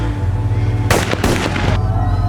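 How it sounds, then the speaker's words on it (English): A sudden burst of gunfire from behind in The Long Walk, a sharp crack followed by a couple of rapid loud reports over a steady low background hum. "a gunshot rings out from behind."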